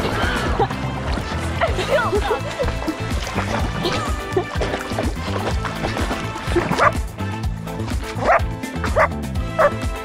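Dogs bark and yip repeatedly, with whimpering mixed in, fairly close and continuous throughout, at a boat anchorage by a large beach.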